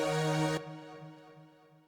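Sustained instrument notes cut off abruptly, leaving a soft delay and reverb tail that rings on and slowly fades into quiet.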